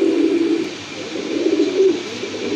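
A pair of king pigeons, one white with red markings, coo in low repeated rolling calls close by, loud and continuous with no talking.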